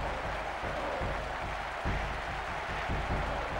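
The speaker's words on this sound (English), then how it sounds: "What a noise. Listen to the crowd." Dense, steady roar of a stadium crowd cheering after a goal in the football video game ISS 98, with a slight surge partway through, continuous and fairly faint.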